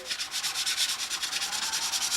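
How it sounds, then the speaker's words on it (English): Rhythmic sanding strokes rasp back and forth in a steady, even pattern, close and fairly quiet. "He's out there sanding."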